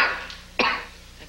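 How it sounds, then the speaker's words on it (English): A single person coughs in a dramatic scene, with a throat-clearing start and then one sharp, close cough halfway through, followed by quiet. "The cough."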